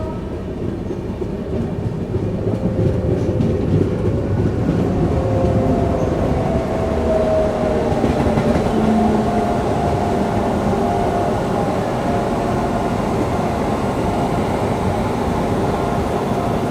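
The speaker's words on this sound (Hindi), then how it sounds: "वो आ रही है KSR बेंगलुरु की ओर से। और ये है आपकी मेरे ख्याल से हाँ KSR बेंगलुरु नांदेड़ एक्सप्रेस।" Packed KSR Bengaluru Nanded Express passenger train passing on a parallel line, a steady loud rumble of wheels and carriages with faint clickety-clack, heard from aboard another train.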